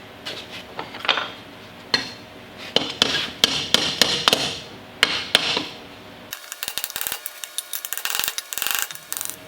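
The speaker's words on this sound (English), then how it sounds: "Cleaned up this edge with the hammer" A hammer straightens the edge of a metal car body panel: a series of sharp, close metallic taps at an uneven pace, then a quicker burst of lighter tapping at the end, with no speech.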